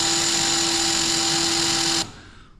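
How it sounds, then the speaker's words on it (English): A power drill bores into a garage ceiling during a light installation, a loud, steady whining motor with a sustained high tone that runs for about two seconds, then cuts off abruptly into a fading hum. "Real-time drilling."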